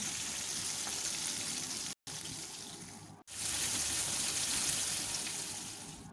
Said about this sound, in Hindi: अब मैं दूसरी साइड से टर्न करके इसको पकाऊंगी।